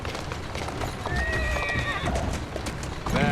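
A horse in the Assassin's Creed Syndicate video game gives a high whinny while its hooves clip-clop steadily underneath, fairly quiet and close.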